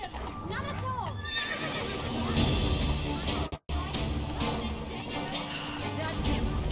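Roach, a horse in the video game The Witcher 3, neighs and whinnies loudly over galloping hoofbeats and crashing effects, with someone speaking over part of it.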